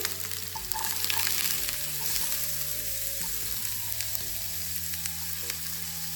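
Diced sweet yellow onion frying in oil, a loud close sizzle with scattered stirring scrapes and pops running throughout, no speech over it.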